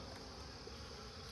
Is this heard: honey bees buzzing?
yes